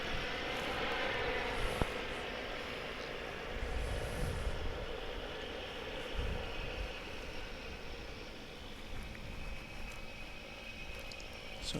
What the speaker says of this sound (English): It's a little cargo plane, probably going somewhere in Texas, Louisiana, Oklahoma, Arkansas